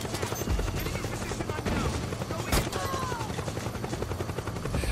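A helicopter in the Metal Gear Solid 4 video game thrums with a fast, steady rotor chop, mixed with bursts of gunfire and a sharp blast amid dense battle noise, while people talk over it.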